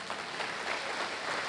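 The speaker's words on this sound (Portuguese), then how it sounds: "Aplauda ao Senhor." Brief, steady applause from a Portuguese-speaking church congregation, a soft, even wash of many hands clapping together at a distance.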